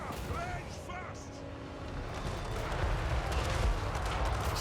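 Ranged units firing in the video game Total War: Warhammer 3, a dense rumbling mix of gunfire and blasts that builds louder toward the end under game voices and battle noise.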